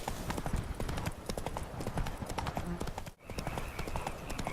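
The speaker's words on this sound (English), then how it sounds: "Come on, Roach, let's go." The horse Roach gallops in The Witcher 3: Blood and Wine, hooves pounding in a quick, driving clip-clop rhythm that sounds close and continuous, with only a brief dip partway through.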